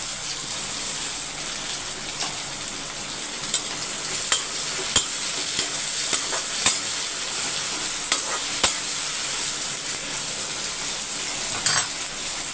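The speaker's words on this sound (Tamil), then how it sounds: "வெங்காயம் பாதி வதங்கினா போதும் நம்மளுக்கு ரொம்ப வதங்கணும்னு அவசியம் கிடையாது கத்திரிக்காய் தொக்குக்கு" Onion and tomato sautéing in a pan for brinjal thokku: a steady, bright sizzle fills the whole stretch, with scattered small clicks and scrapes of a spoon stirring the pan, close up and without any voices.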